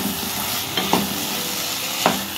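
Chicken Kolhapuri masala frying with red chilli powder and Kashmiri chilli powder, a steady close sizzle with a few sharp scrapes of a spoon stirring through the pan.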